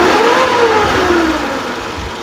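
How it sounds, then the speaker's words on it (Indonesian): A 2002 Suzuki Futura (Realvan GRV) van engine idles steadily at close range, a continuous mid-pitched hum with a faint whir and no speech over it. "Suara mesin langsamnya masih normal, oke."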